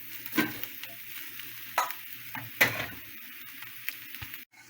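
Cooked Mysore rice sizzles in a frying pan while a utensil stirs and scrapes it, giving several distinct scraping strokes over a steady low frying hiss, close and fairly quiet.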